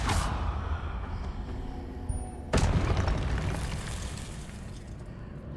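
A Confringo blasting spell explodes in Hogwarts Legacy on PC: two loud booming blasts a few seconds apart, each a sharp burst followed by a rumbling decay.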